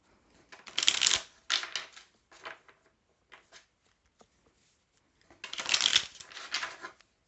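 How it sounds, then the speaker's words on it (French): A Béline oracle card deck is shuffled by hand in two distinct riffling bursts separated by several seconds of quieter card taps and handling, close and crisp, with no speech. "Je vais juste remettre des cartes avec l'oracle de Béline pour voir."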